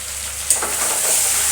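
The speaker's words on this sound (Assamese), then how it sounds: "এতিয়া অলপমান ভাজি লওঁ।" Ground turmeric, cumin and coriander powder frying in a pan: a steady, fairly loud hiss with a sharp rise partway through, continuing alone without talk.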